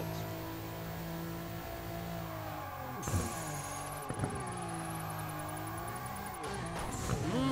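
A car in Burnout Paradise drifting at Ocean View Country Club, its engine droning steadily with pitch swoops as it revs, with brief skid and impact bursts partway through, under continuous game music.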